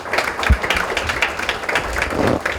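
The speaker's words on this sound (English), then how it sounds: "Applause for these two geniuses." Audience applause at a Bollywood celebrity book launch, a short burst of dense clapping from a crowd, moderately loud and continuous with no talking.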